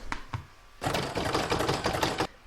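In-the-hoop embroidery machine stitching a floral petal on a topper, a few quick taps followed by a rapid, rhythmic clatter of stitches for about a second and a half, close and fairly quiet.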